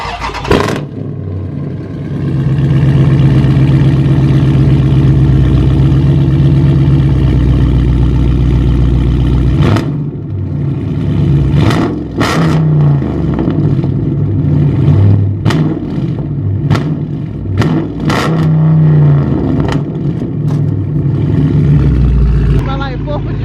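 A 2021 Dodge Challenger Widebody 392 Scat Pack with a ZL1 whistler-style setup fires up and holds a loud, steady idle, then barks through several sharp throttle blips, with voices talking nearby.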